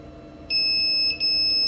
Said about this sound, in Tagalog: antayin mo mag-beep twice. Long beep.